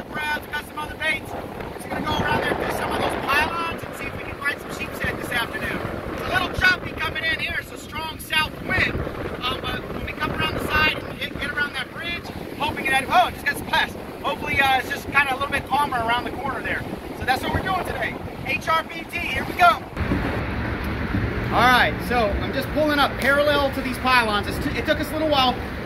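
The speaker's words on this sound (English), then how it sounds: "Wind is blowing out of the south, southeast, blowing us away from the poles." Wind buffets a fishing boat near the Hampton Roads Bridge Tunnel in Virginia, a continuous rough rush and microphone rumble under ongoing talk, with slapping water and hull noise throughout.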